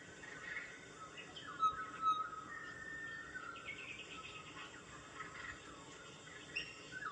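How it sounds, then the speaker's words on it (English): Faint songbird chirps and trills rise over a soft outdoor hiss, thin scattered calls at a distance with no voices. "Isn't that bird pretty?"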